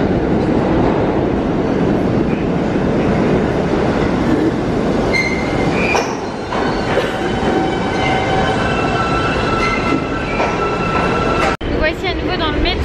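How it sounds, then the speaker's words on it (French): A New York subway train runs with a steady, loud rumble of wheels and car noise throughout, with faint screeching tones in the middle and a sharp clank near the end; voices talk briefly underneath. "Voici à nouveau dans le métro."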